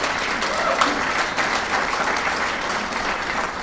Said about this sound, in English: I would love a rousing round of applause